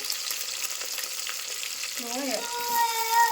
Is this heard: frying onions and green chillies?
yes